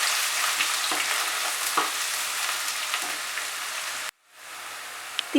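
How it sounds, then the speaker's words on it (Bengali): A large sliced onion fries in oil over medium heat, producing a continuous close sizzle with occasional stirring taps; the crackle cuts out abruptly near the end, then resumes faintly. "পেঁয়াজটাকে ফ্রাই করব মাঝারি আঁচে রেখে"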